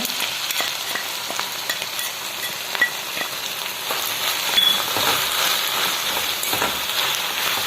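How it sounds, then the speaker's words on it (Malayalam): Curry leaves and green chilli stirred into okra frying in a pan, a steady bright sizzle of oil with scattered scraping clicks of the spoon against the pan, close and continuous, no voices. "കറിവേപ്പില നന്നായിട്ട് ഇളക്കി കൊടുക്കാം"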